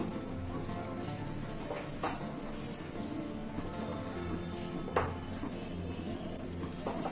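Sandesh mixture being stirred in a pan on the stove over medium-low flame, giving a steady low scraping and soft sizzle with a couple of sharper knocks of the spoon against the pan.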